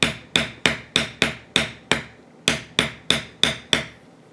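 Leather carving tool struck down repeatedly to background tooled leather, about a dozen sharp, close taps in a fairly even rhythm with a short gap midway.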